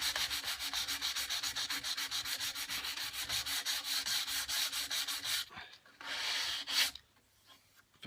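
Hand sanding on a wooden door produces a close, rhythmic back-and-forth rasp of quick, even strokes that stops abruptly, followed by a brief pause and one last short burst of sanding.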